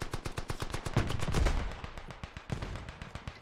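Rapid machine gun fire in the World War I shooter game Beyond the Wire, sharp evenly spaced bursts of shots, loud and close, with a heavy boom near the middle and more distant rattling gunfire after it.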